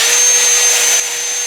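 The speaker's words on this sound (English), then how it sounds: "get myself a wire wheel, or a cup wire wheel, on a drill, and just spend a minute at most cleaning this up" A cup wire wheel on a power drill cleaning a brake hub on a Peugeot or Citroen GTi, giving a steady, loud, high whirring grind close by with a slight drop partway through.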